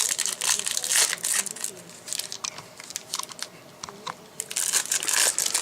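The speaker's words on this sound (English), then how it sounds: "we won 2 packs, and let's open them" Foil Magic: The Gathering booster packs being torn open and crinkled by hand, bursts of crisp crackling and ripping in close, uneven clusters with brief pauses between.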